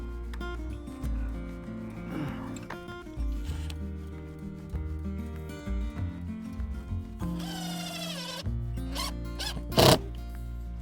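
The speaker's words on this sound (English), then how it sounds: "I'm going to get some silicone on each one of these bolts, good amount" Silicone sealant squeezed from a caulk gun onto the bolts of an RV roof fan, giving close, uneven ratcheting clicks and squelchy zipper-like rasps amid handling and tool noises, with a sharp burst near the end.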